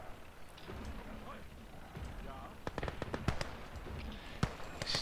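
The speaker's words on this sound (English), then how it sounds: "this damn mortar too" Distant mortar fire in Call to Arms: Gates of Hell, rendered as scattered sharp thuds and cracks that grow denser and louder midway, ending in one heavy impact, with a battlefield rumble under it and speech-like sound at times.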